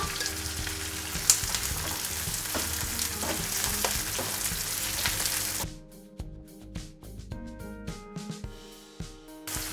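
Onions and capsicum stir-frying in a pan for restaurant-style chilli chicken, a loud steady sizzle with scraping stirs that drops to quieter crackling and clinks partway through.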